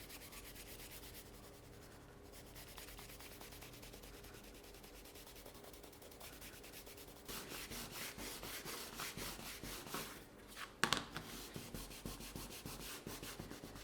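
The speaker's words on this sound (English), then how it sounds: "come back with a piece of heavy canvas, and we're going to burnish" Quiet, steady rhythmic rubbing of heavy canvas against a leather edge, burnishing it back and forth, growing slightly louder partway through.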